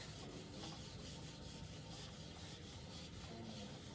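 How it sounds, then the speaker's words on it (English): A board being erased during an atomic structure lesson, a continuous close rubbing and scraping that sounds steady and rasping for the whole stretch. "Okay, so let's erase this."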